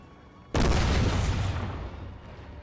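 A single heavy cannon blast booms in the Napoleon Total War battlefield, with a sudden loud onset and a long rumbling tail that fades over about two seconds.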